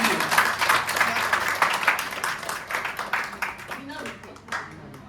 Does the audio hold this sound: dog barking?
no